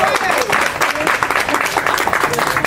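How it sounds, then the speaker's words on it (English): Audience applause at a gathering honoring Ray, a steady dense clatter of clapping hands lasting throughout, loud and close, with a voice speaking over it. "Let's give Ray a big round of applause."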